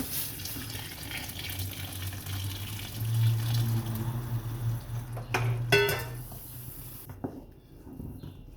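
Boiled water pours steadily into a pot of molokhia, a continuous close splashing gush that swells midway before cutting off near the end, with faint clinks of the pot.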